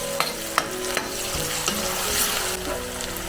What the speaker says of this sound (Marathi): टोमॅटो आपण तेलामध्ये परतून घ्या